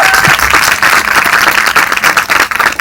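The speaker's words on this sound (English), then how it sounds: "Please give him a round of applause." Audience applause at a Marvel Luke Cage Q&A for writer and executive producer Cheo Hodari Coker: dense, steady clapping from a sizable crowd, loud and continuous for about three seconds with no talking.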